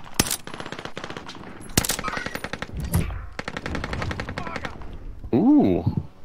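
Rapid automatic gunfire from a multiplayer shooter video game, sounding as loud, crackling bursts that repeat through the clip, with a voice-like tonal sound near the end.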